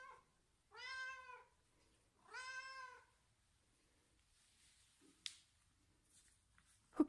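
A pet cat meows twice in clear, drawn-out calls close by, followed by a quiet pause with a few faint clicks and a sharp tap at the end.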